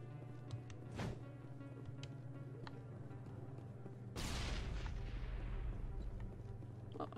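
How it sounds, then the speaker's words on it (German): Two booming blasts in Mass Effect Legendary Edition, a sharp crack near the start and a bigger, rumbling explosion a few seconds later whose roar decays slowly, over a low steady game hum. "Es ist was explodiert."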